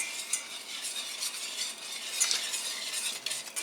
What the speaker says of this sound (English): And then give that a whisk.